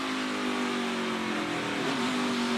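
A race car engine at the 2020 Henry 180 on a wet track, droning loudly and steadily at high revs, then dipping briefly as the driver eases off the throttle before climbing again.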